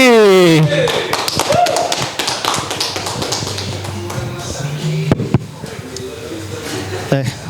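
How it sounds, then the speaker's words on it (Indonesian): A studio audience claps in applause at a comedy talk show, a burst of dense tapping claps under and between a host's speech. "Oke, boleh tepuk tangan buat Raffi."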